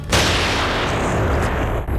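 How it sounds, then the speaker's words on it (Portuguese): A single loud gunshot from a Fight Club film scene bursts out near the start, followed by a sustained booming reverberant rumble that lingers before cutting sharply. "o momento do disparo"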